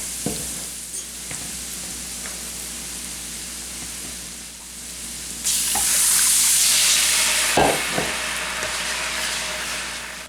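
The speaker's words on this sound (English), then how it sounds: "Just stir it, mix it around." Garlic, flour and milk for a chicken pot pie being stirred in a pan: a continuous sizzle that grows louder partway through, with occasional spoon knocks and scrapes against the pan, close up.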